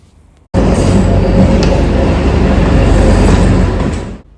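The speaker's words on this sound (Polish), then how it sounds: "W końcu nadjeżdża nasz wyczekany pociąg" A train pulls into a station in Sri Lanka, starting with an abrupt, very loud, roaring rumble that holds steady with clattering and faint squeals before suddenly cutting off.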